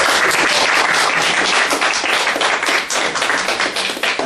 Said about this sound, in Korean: 우리 김민아 강사님께 우리 큰 박수 다시 한번 부탁드리겠습니다